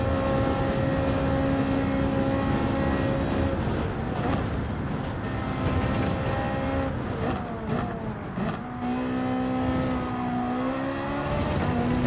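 A Group 3 race car engine in Gran Turismo 7 on PS5, droning loudly and steadily at high revs, with pitch dips and rises through gear changes and braking midway before climbing again.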